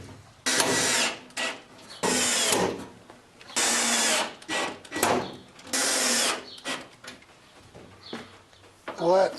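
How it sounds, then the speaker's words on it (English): A power drill boring holes through aluminum on a MirroCraft boat, in several loud bursts of a few seconds each with quieter pauses between them, close by. "I think I'm gonna drill some holes through this aluminum"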